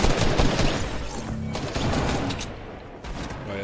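Players trade fire in a Fortnite match, with bursts of rapid gunshots rattling loudly at first, then thinning into scattered, more distant shots over a continuous background rumble.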